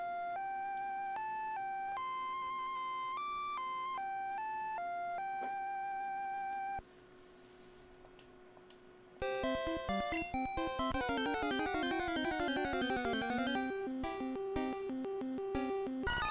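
Poke Flute melody from Pokemon Red, a bright chiptune tune of short stepped notes, then a brief quiet gap and a louder, denser jingle with rapid descending runs, no talk.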